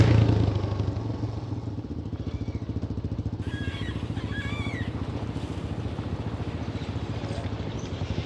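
Dirt bike on a trail: an engine burbles loudly at first, then settles into a steady running drone with scattered clatter and thumps from the rough ground.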